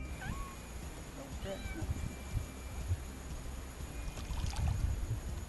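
Small kittens rescued near a river meow in short, thin cries, a few scattered calls over a soft outdoor background with faint water and low rumble.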